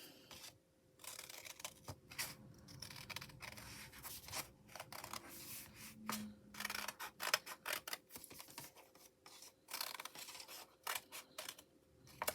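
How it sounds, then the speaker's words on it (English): Scissors snip through paper to cut out a coat shape at a craft table, a quiet run of short crisp cuts and rustles repeating over several seconds with no voices. "Then I'm going to cut out my coat."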